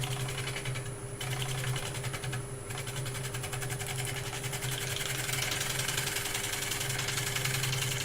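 Wood turning lathe running steadily while a tool takes a fine finishing cut on a spinning piece of wood, a continuous motor hum with a faint fine scraping texture throughout, close and fairly loud, no talking.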